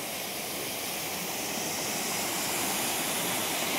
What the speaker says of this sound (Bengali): এই দেখো এটা হচ্ছে তুর্গা ওয়াটারফলস